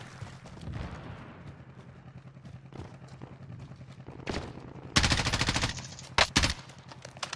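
Rapid bursts of automatic gunfire in a multiplayer shooter video game, a loud sustained volley followed by two shorter bursts, heard over a low rumbling game ambience.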